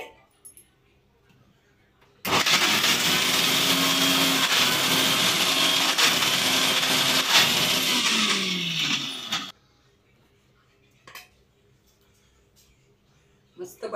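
A kitchen mixer whirs loudly for about seven seconds as it churns cream with ice cubes into butter, the motor steady before cutting off into near silence broken by faint knocks.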